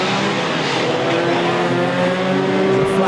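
Race cars passing during a motor race, making a loud, continuous engine roar that fills the moment, with no voices over it.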